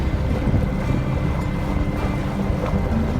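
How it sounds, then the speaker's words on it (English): Choppy waves on Lake Ontario heard from a small sailboat underway late in the season, a constant loud rush of water mixed with heavy wind buffeting the microphone, no talking. "It's really wavy too today"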